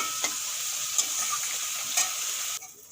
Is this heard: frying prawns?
yes